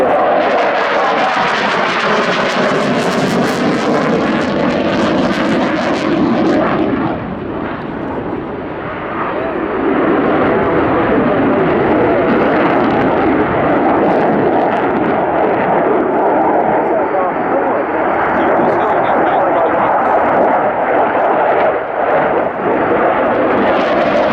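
Military jet engines with reheat lit at the Royal International Air Tattoo airshow, a loud sustained broadband roar that swells and fades slightly midway, with commentary voice underneath.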